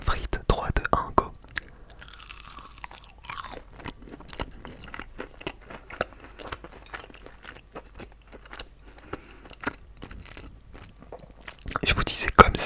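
Reheated crispy McDonald's chicken nuggets dipped in sauce are bitten and chewed close to the mic, with dense crunchy chewing, a few sharp bites and brief whispered speech near the start.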